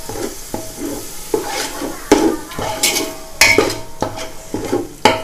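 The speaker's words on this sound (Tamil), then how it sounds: "தயிர் போட்டு லைட்டா வதக்கிடலாம்" Curd stirred and sautéed in a pot for Dindigul biryani, with a soft sizzle under repeated scraping strokes of a spoon against the metal pan, close and steady across the clip.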